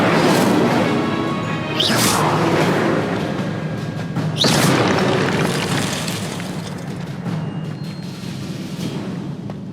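The Incendio fire spell goes off in Hogwarts Legacy on PS4. Loud, continuous roaring blast noise is broken by two sharp whooshing bursts, then slowly thins out over about ten seconds.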